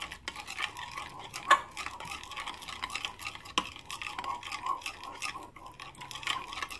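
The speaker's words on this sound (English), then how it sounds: "let me scrape more honey into this" Spoon scraping honey into venison crockpot barbecue sauce, giving faint soft scrapes and light clinks against a container, a sharper tap near the start and another midway, quiet and close with no talk.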